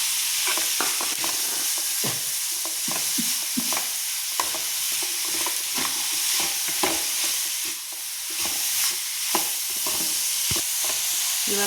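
Onion and carrot fry in a pan with a constant sizzle, while a spatula scrapes and taps against the metal in frequent, irregular strokes.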